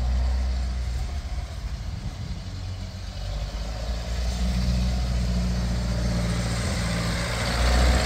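Antique Ferguson TEA20 tractor that needs carburetor work, driving along a roadside stretch during a gear test: a steady, rumbling low engine drone, continuous and fairly close, with a slight rise in loudness near the end.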